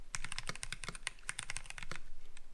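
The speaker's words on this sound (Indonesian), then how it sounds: "pure mechanical keyboard" Typing on a mechanical keyboard with a heavy titanium base, a rapid stream of close, crisp key clicks and clacks with no talk.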